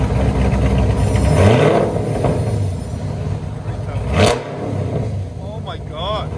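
A 2019 Chevy Camaro SS 6.2L V8 with true dual exhaust, long tube headers and straight pipes revs hard and close, the loud roar climbing and falling twice, with a voice also heard over the engine.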